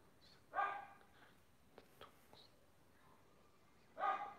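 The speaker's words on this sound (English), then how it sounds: "My dog is very crazy." A dog barks twice, with a loud bark near the start and another close to the end, and faint small noises fill the gap between them.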